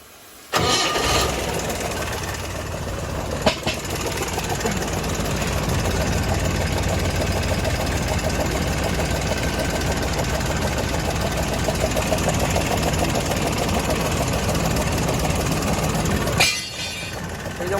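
Engine of a newly delivered truck with air brakes cranking over and catching, then idling loudly and steadily for a long stretch before cutting off abruptly near the end.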